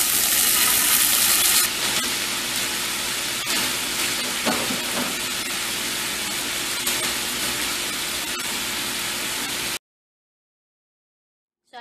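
Shrimp searing in a preheated non-stick skillet on high heat, a loud continuous sizzle with crackling hiss that holds steady for several seconds before cutting to silence.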